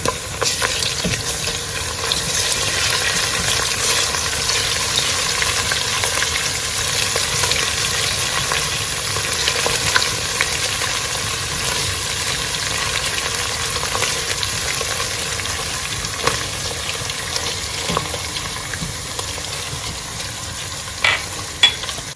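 Blended ginger and garlic frying in a pot for beetroot jollof rice give a long, steady, close sizzle, with occasional stirring knocks and spoon clicks scattered throughout.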